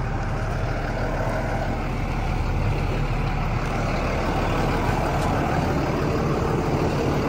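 The Cummins diesel engine of a 2023 International MV 22-foot Penske box truck idles steadily and loudly nearby, a continuous low rumble and clatter with no breaks for the whole stretch.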